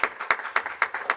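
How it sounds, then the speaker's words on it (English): Steady, rhythmic claps from a small group at a city council meeting, about four evenly spaced bursts per second, sharp and close with short gaps between. "Clap on that."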